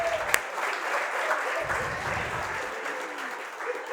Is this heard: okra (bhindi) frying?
no